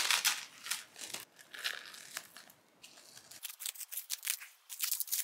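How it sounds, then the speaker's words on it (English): Plastic shrink wrap crinkles and tears as it is peeled off a manga volume, close and fairly quiet, in irregular bursts of crackling with brief pauses. "I'm going to unwrap that one and we can flip through the first volume together"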